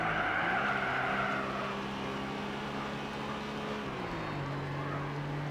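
A '95 Suzuki Cappuccino races in the Gran Turismo HD Concept game on PS3, its engine droning at steady high revs with tire squeal, then its pitch drops as it shifts, continuous and moderately loud.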